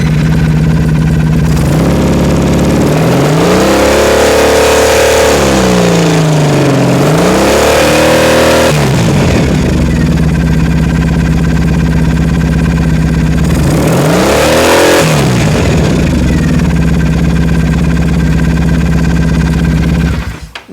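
Triumph Thruxton motorcycle engine idling steadily, then revving hard to high RPM twice with rising and falling sweeps, loud and close, no talking.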